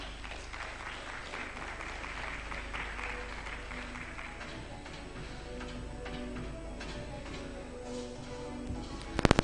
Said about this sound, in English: let's appreciate Rosemary one more time with a round of applause